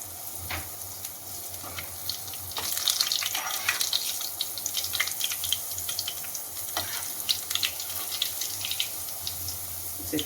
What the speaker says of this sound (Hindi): इसे फ्राई होने दीजिए।